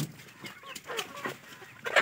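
Chickens clucking inside a poultry shed on a farm in Konkan, several birds close by with irregular short clucks and squawks, a louder burst near the end.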